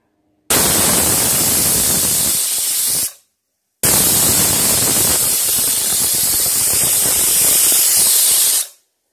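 Pressure cooker whistling over quinoa seasoned with ground pepper, two loud, steady hissing whistle blasts of about three and five seconds separated by a brief silence.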